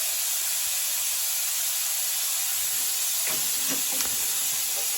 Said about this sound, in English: Air is bleeding away